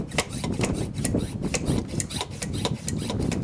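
Repeated rasping strokes from hand-pumping a Motive Products pressure brake bleeder up to 15 psi, a steady rhythm of roughly three strokes per second, close and fairly loud with no talk.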